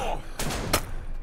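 Gunfire in the game Blood West: two sharp, loud shots about a third of a second apart, close by, over a noisy background.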